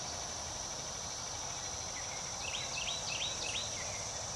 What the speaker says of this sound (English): Or cicada, one of the two.